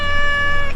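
Cosmo, a cat up on a roof, lets out one short, loud, close meow with a clear tonal pitch, heard on its own.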